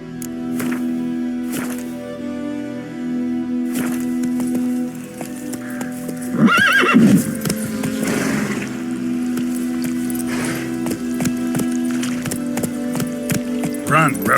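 Horse hooves clip-clopping in The Witcher 3 video game, a steady rhythmic trot under a constant musical drone, with a louder burst of movement midway; no clear neigh stands out.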